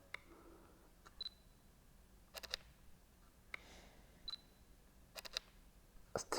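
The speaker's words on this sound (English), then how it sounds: "You can hear something going in the camera." A Fujifilm X-H1 or X-T2 mirrorless camera fires its shutter several times, crisp close mechanical clicks in small pairs and clusters, with faint high whines from in-body stabilization between shots in a quiet room.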